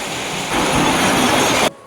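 Steady rain falls outside, a dense, even hiss that swells slightly partway through and then cuts off abruptly near the end.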